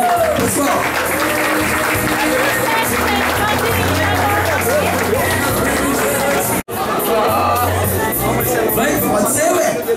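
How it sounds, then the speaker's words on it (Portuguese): Crowd at a mountain bike race event clapping amid loud outdoor chatter and hubbub, with someone talking over it through a PA; applause is mixed into the busy noise throughout. "vamos aplaudir"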